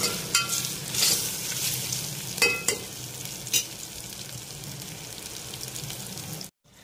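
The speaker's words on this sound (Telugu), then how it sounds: "పేస్ట్ అనేది వేగాలి, బాగా స్మెల్ మొత్తం పోవాలి." Spice paste frying in a pan for tomato pulao, a steady close sizzle with occasional louder crackles and stirring scrapes, no voices.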